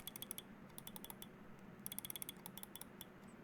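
Left and right buttons on a gaming mouse clicked in a sound test: sharp, close, quiet clicks in quick bursts and pairs, with short pauses between runs.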